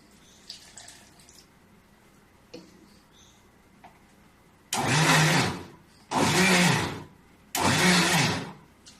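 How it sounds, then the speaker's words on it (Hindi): A mixer grinder blending maida and water into ghewar batter runs in three short loud bursts near the end, each a couple of seconds of dense whirring, after quieter clinks and taps. "एक कटोरी पानी डालने के बाद 2 बार मैं मिक्सी को फिर से मैं चलाई हूँ।"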